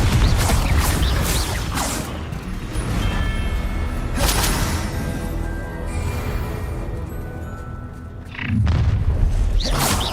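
Confringo fire-spell blasts in the video game Hogwarts Legacy: deep booming explosions with whooshing bursts, one at the start, more around four seconds and a heavy hit near eight and a half seconds, over continuous rumbling game sound.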